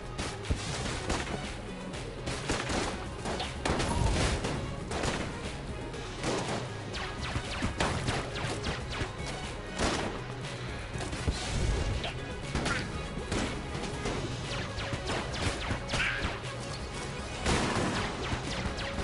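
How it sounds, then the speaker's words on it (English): Grenade explosions in Enter the Gungeon go off in a dense chaotic stream of crashing blasts and sharp impacts mixed with constant gunfire, loud and continuous for the full twenty seconds. "Grenades. Gotta avoid the grenades."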